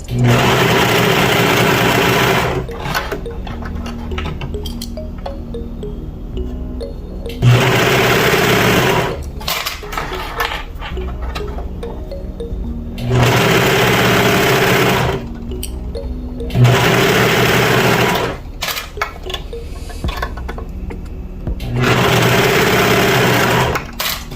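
Sewing machine stitching inexpensive T-shirt knit fabric into a dress, loud and close, running in about five long whirring bursts separated by quieter pauses of handling fabric.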